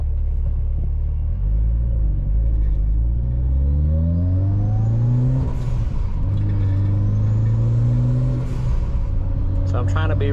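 Mitsubishi Evo 9 driven gently after a drivetrain rebuild: loud, steady engine drone from inside the car, rising in pitch through two smooth gear pulls with a brief dip between them.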